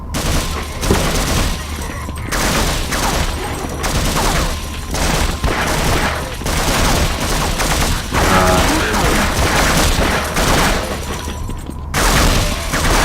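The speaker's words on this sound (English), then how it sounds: "They were just shooting each other." Dense gunfire echoes through a Unity-built Half-Life demake as enemies shoot at each other. Rapid, overlapping bursts of shots continue nearly nonstop and loud for the whole stretch.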